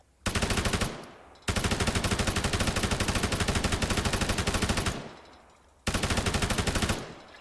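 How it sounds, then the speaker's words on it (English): A 5.56 machine gun fires from a tank gunner seat in the Arma 3 video game, loud and close, in three rapid automatic bursts separated by short pauses, with no talking. "Put me in that gunner seat."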